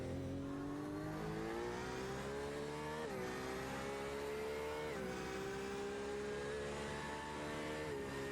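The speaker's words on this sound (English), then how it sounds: "It is a beautiful sounding car. That's one thing you can say about these GTE machines." A GTE race car engine revs hard and continuously, with rising harmonic tones broken by quick gear-shift drops, loud and close throughout without talk.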